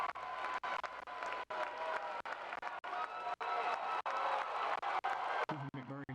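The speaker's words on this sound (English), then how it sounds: "Cooper McMurray hyping up the crowd as they have never been louder in this park." A crowd at a college baseball game, the Auburn Tigers at home in extra innings, roars and applauds loudly and continuously, dense cheering with sharp claps throughout.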